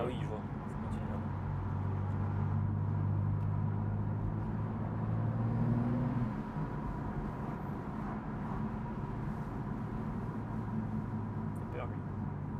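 A BMW M2 with 371 horsepower, in Sport Plus with the exhaust valve open, holds a steady low engine drone and exhaust rumble from inside the cabin, easing off partway through.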